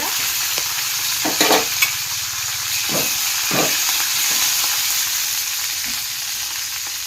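Chopped green chillies and a dried red chilli fry in a hot pan with a steady, close sizzle and hiss, and a few stirring clinks and scrapes come through.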